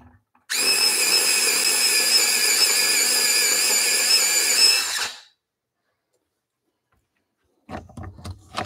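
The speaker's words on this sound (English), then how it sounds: "Of course, now I have to resharpen it." Electric pencil sharpener grinding a pastel pencil, a loud, close, high whine lasting about four and a half seconds before cutting off, then silence and a few faint handling taps.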